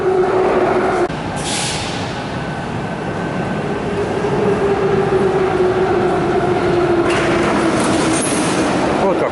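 Restored old metro train on the Blue Line of the Saint Petersburg metro, heard from inside the moving car as a loud continuous rumble with a sustained whining tone, clattering wheels and brief squeals.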